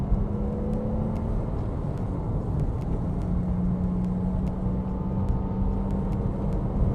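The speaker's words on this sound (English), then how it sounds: "I have had a lot of customers that love this naturally aspirated sound that you get from these engines" Steady engine drone with a sustained tone that shifts slightly in pitch, a Porsche Boxster 987 S naturally aspirated engine running continuously at moderate, even loudness with no voices.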